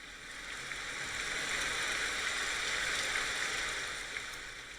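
Heavy, steady rain pours down in a dense continuous hiss, swelling slightly in the middle, with no voices.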